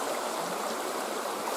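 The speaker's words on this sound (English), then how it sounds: "the creek is rising." A swollen creek runs through a soggy area ahead of expected Pacific Northwest flooding, giving off a steady, dense rush of flowing water that stays close and constant with no voices.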